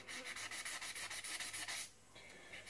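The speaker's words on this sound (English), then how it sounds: "I'm actually sanding them around the piston." Brake caliper pistons from a Honda CRM250 being gently sanded by hand around their circumference, giving quick rhythmic rubbing strokes up close, then a softer, quieter scrape near the end.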